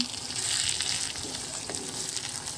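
Pork binagoongan sizzles steadily in a pan as it is stirred, a continuous close frying hiss with soft scraping underneath and no voices.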